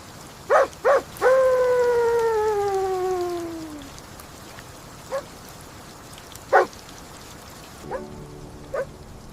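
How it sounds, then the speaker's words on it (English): A dog gives a few sharp barks, then a long drawn-out howl that slowly falls away, followed by scattered single barks at a distance. "What is he barking at?"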